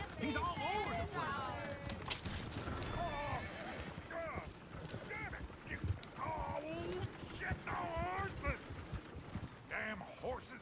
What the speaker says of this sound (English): Damn horses!